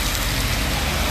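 Heavy rain pouring steadily in Paris, a dense continuous broadband hiss of drops striking surfaces, constant and loud throughout with no pauses or speech.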